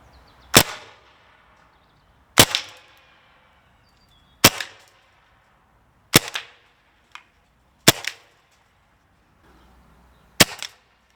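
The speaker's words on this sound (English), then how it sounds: "We'll fire a whole magazine through the chronograph" An HDR.50 CO2 pistol, charged with a 6.8 g CO2 cartridge and loaded with Homedefence-24 rounds, fires through a chronograph: six loud, sharp shots spaced evenly a couple of seconds apart, each with a short rattling tail, plus one faint click, and no talking.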